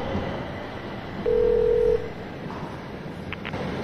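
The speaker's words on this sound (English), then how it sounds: "Dial Jenny's number" A single phone dialing tone, under a second long, as a telephone number is dialled in the video game The Darkness, over a constant low subway-like background rumble.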